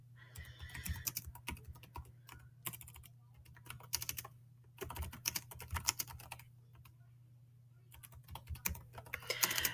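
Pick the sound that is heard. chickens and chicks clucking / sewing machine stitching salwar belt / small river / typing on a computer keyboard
typing on a computer keyboard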